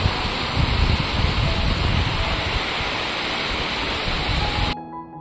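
Heavy rain pours in a steady, dense roar during a storm, constant and close, before it cuts off abruptly near the end.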